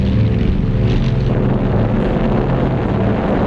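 Soviet Sturmovik fighter bombers from WWII drone in a loud, steady low roar of piston engines, a dense rumbling hum that stays constant throughout without pause.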